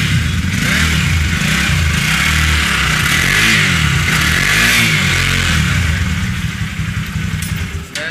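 A second-hand Benelli motorcycle at a used bike lot in Kathmandu runs loudly close by, its engine revving up and down in rising and falling sweeps over a steady rumbling idle, easing off at the end.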